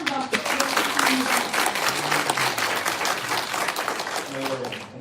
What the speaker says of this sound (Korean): 우리 화랑의 큰 박수 한번 부탁드립니다.